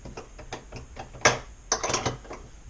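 A hand ratchet loosening a bolt on a Sea-Doo tow hook: quiet, rapid clicking of the pawl in short strokes, with a few sharper metallic knocks, close and without voices.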